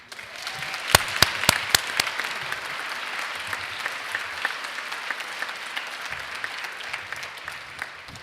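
An audience at an evening scholars' reception applauds to welcome a speaker to the stage: steady, dense clapping from a crowd throughout, with a few sharp, close claps standing out near the start.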